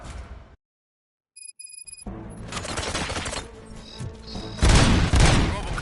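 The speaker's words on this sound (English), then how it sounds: "Gunshots? What's going on?" Gunfire and explosions from the Robocop Rogue City video game: a short burst of impacts, a pause, then dense crashing shots and booms building to a loud final blast.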